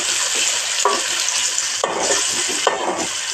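Tomatoes tipped into a frying Kokni-style crab curry and stirred, a steady close sizzle with scraping stir strokes breaking through in a few bursts.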